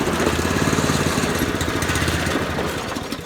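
Yamaha Banshee engine idling roughly on choke, a steady close mechanical drone with a slight pulsing rhythm that holds for the whole stretch and eases a little toward the end.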